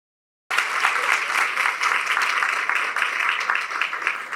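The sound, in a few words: applause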